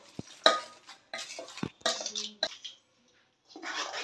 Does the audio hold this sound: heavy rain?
no